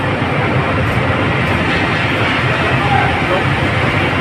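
A mid-sized ferry's engine drones steadily as it carries six trucks and pickups, a loud, dense rumble filling the whole stretch without a break.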